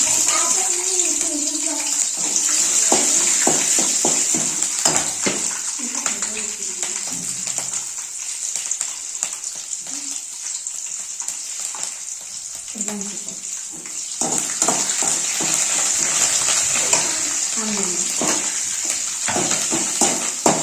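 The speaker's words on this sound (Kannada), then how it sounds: "ಇವಾಗ ನಾನು ಹಸಿರು ಮೆಣಸಿನ್ಕಾಯಿ ಹಾಕ್ತಾ ಇದ್ದೀನಿ." Green chillies dropped into a pan of browned, frying peanuts in a home kitchen, giving a steady hiss and sizzle with scraping and stirring, while someone talks over it.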